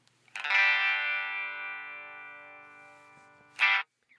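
A single sustained distorted guitar chord through a Line 6 HX Stomp with highs and lows cut, leaving a thin 1–6 kHz midrange-heavy tone, ringing for about three seconds before a short muted strum cuts in.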